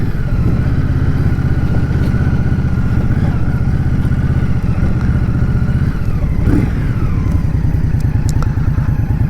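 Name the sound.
2023 Indian Scout Rogue motorcycle riding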